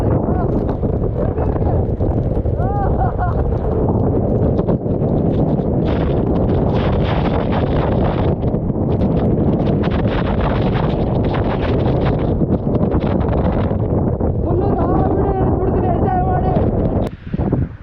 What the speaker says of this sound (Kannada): ಇದೇ ಥರ ವಿಂಡ್ ಬ್ಲಾಸ್ಟ್ ನೋಡಿಲ್ಲ ನಾನು.